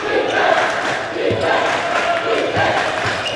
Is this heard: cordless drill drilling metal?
no